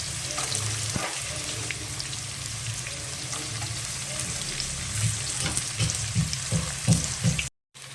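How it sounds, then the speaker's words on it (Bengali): Potatoes and onions frying in a pan of oil with turmeric and salt, a steady close sizzle with occasional stirring scrapes, no talk. "এর মধ্যে আমি পেঁয়াজ দিয়ে দিব।"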